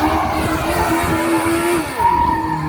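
A Legends race car at a castle stunt show roars close by, engine pitch holding steady then dropping and rising again as tires squeal and skid across the ground, loud and continuous with no talk.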